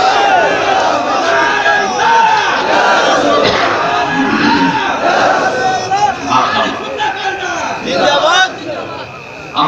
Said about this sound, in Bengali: দুহাত উঁচু করে তাকবীর দেন।